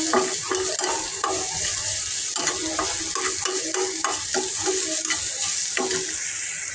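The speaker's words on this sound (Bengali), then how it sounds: "পেঁয়াজটা ভাজছে, পেঁয়াজটা ভাজতে শেষ হলে শুকনো মরিচটা করে দেবো।" Steady sizzling of onions frying in a pan, with repeated scraping and stirring strokes throughout; no voices.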